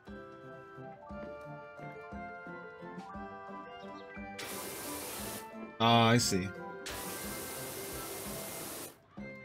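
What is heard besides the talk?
pressure washer spraying in the video game PowerWash Simulator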